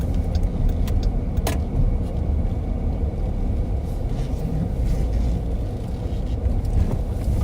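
A patrol car drives along city streets, a steady loud engine and road rumble filling the whole stretch without a break, with no talk over it.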